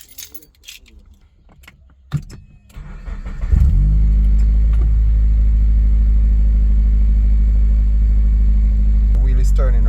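Keys jingle, then an Acura RSX engine cranks and catches after a final drive install, settling into a loud, steady idle that runs close and unbroken to the end.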